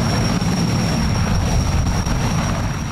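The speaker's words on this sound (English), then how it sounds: "Cargo helicopter." A cargo helicopter drones steadily overhead, a loud continuous rotor and engine rumble with no pauses.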